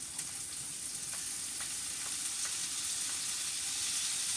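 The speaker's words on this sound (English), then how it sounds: "fry your onion. That's the sound that you're looking for." Onions frying in a pan give a steady, close hiss of sizzling with faint crackles throughout, no voices over it.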